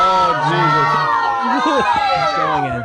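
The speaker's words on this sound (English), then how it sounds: "Crowd is cheering him on." A large crowd cheering and shouting, a dense, loud wall of many overlapping voices that stays near and continuous throughout.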